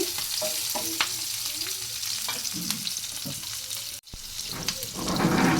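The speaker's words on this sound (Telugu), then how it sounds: "పెద్ద టమాటా ముక్కలను కూడా వేసుకొని ఫ్రై చేసుకోవాలి పెట్టుకొని బాగా వేయించుకోవాలి" Large tomato pieces fry in a pan for Kerala-style fish curry, with a steady close sizzle, intermittent stirring scrapes and knocks, a brief break, then a louder hiss.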